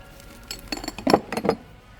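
Small glass spice jars with silicone seals clink against each other in a quick cluster of bright, close taps, several sharp knocks bunched together over about a second.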